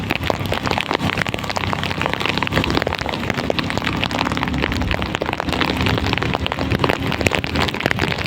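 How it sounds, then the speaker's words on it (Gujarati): Heavy rain pours down in Alang in a dense, continuous hiss and patter, loud and steady throughout with no voices. "આ ફૂલ વરસાદ વાતાવરણ તમે જોઈ શકો છો અત્યારે"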